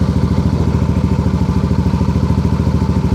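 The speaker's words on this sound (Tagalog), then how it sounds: "Ang tahimik ng makina." A Yamaha NMAX 155 scooter engine idles during warm-up, a close, steady, fast-pulsing putter that stays even throughout.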